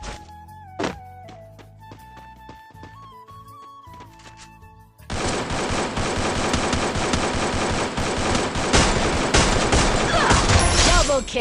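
Rapid automatic gunfire in the Free Fire mobile battle game, loud dense bursts filling the second half after quieter game music and effects.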